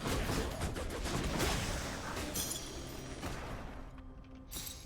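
Rapid overlapping blasts of bombs exploding go off close and loud in the video game Hades, a dense cluster of crashing booms that thins out toward the end.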